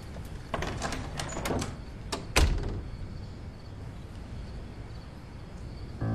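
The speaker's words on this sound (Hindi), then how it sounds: "दरवाजा बंद करके जाओ।" A door is pushed shut in a domestic scene of a TV drama serial: some brief rattling handling sounds come first, then a single firm thud over a low room hum, with no talking.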